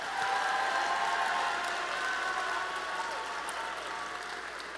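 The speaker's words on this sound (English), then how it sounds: "let's give our ECs and VCs another huge round of applause" Sustained applause from an audience at a FIRST robotics state championship event, honoring volunteers; steady broadband clapping throughout, fairly loud, with tonal hum and some voices mixed in underneath.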